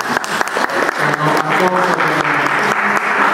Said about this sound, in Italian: Allora, un applauso a loro, ma sì.